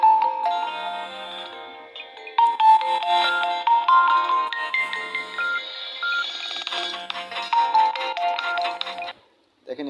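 A phone rings with an incoming Telegram verification call, a loud repeating melodic ringtone that plays steadily for nearly ten seconds and then cuts off abruptly.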